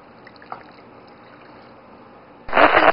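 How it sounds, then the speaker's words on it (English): Water poured from a cup into a bowl of chocolate fudge cake mix, a loud, close splashing pour that starts abruptly and runs steadily for the final half second after a quiet kitchen background. "you're going to add a cup of water"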